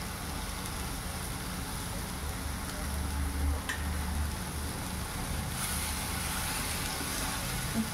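Cabbage and peas tipped into hot oil with already-fried spices, giving a steady, close sizzle and hiss that holds for several seconds with no talking.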